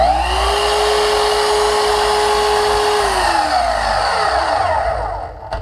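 A Festool Kapex miter saw motor whines up to speed, holds a loud steady pitch for a few seconds, then winds down as it is switched off.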